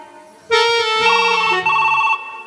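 A telephone rings with a bright electronic ringtone at a police station during a staged Kannada play, loud and steady with a slight shift in pitch partway through, with no talk over it.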